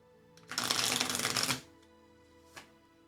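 A tarot deck given a poker-style riffle shuffle: one loud, dense burst of flicking cards lasting about a second, then a single faint tap in near silence.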